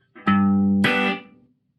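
Electric guitar through an Oceans 11 reverb pedal set for more reverb, two distorted strummed chords played in quick succession, the second ringing briefly before a short reverb tail fades into silence.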